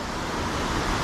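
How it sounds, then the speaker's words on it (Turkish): Steady broadband rush of flowing water, constant and unbroken, moderately loud with no voices. "şu suyun sesi bile beni şey yapıyor"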